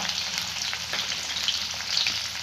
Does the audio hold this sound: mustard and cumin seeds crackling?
yes